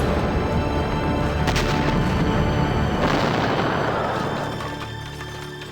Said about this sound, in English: But the explosion was to change my life forever.